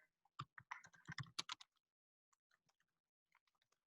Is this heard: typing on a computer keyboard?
yes